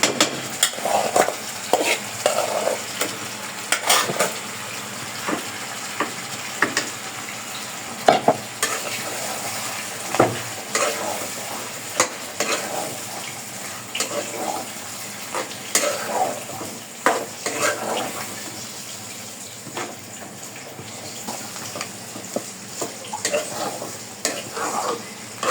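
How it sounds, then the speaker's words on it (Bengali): Lentils being stirred into a pan of spiced katla fish head as it fries for muri ghonto, giving a steady close sizzle with repeated scraping stirs and light utensil knocks against the pot, no talking. "এই যে ডালটা দিয়ে দিলাম, এখন হালকা একটু আর কি ডালটা একটু মশলার সাথে একটু করবো, করে আর কি কষাবো"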